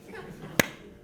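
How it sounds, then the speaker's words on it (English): A single sharp hand clap rings out once, loud and close, in an otherwise quiet indoor space during a graduate recognition ceremony. "So I hear people clapping like this,"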